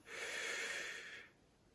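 A single slow, deep breath, airy and soft, audible for about a second before trailing off into quiet.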